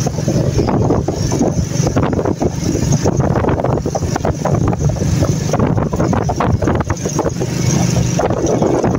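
Strong outdoor wind buffets the microphone steadily throughout, a dense low rumble with gusty surges and an airy hiss, heard near and loud with no voices.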